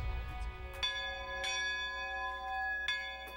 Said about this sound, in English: It's a church bell that's been ringing in Sanford for more than 130 years